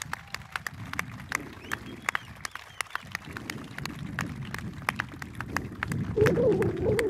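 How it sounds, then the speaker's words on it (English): Crowd applause for veterans and their spouses at an event beside a Chance-Vought F4U-4 Corsair, steady scattered clapping from many hands lasting several seconds, with a brief voice near the end. "give you a round of applause"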